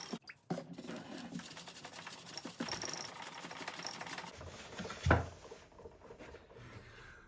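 Polish rubbed by hand with a cloth over a Tama Granstar 20 x 14 kick drum shell during restoration, a soft scratchy swishing texture for several seconds, then a brief thud and quieter rubbing.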